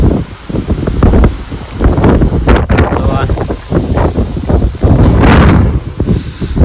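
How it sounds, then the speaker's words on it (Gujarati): Strong gusting wind before a storm buffets the microphone, roaring in loud surges with rustling in between, while a voice talks over it. "લગભગ વાવાઝોડું આવે એવું લાગે છે. આમ જો ભાઈ પવન તો જો આવે"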